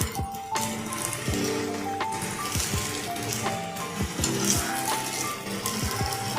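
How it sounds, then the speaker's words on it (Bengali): Flipped snacks sizzle and crackle steadily in a frying pan, with occasional light clinks of a utensil against the pan and no talking. "একে এক পিঠটা একটু ভাজা হয়ে গেছে আমি উল্টে দিচ্ছি অপর পিঠটা"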